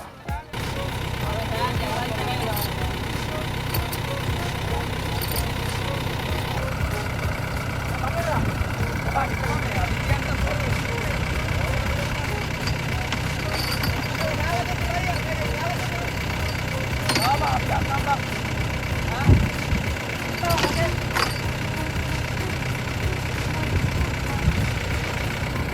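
A tractor engine works steadily under load to pull a stuck tractor free of mud, a continuous low rumble with some revving, clanks and background voices throughout.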